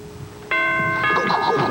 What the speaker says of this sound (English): You want to ring the doorbell?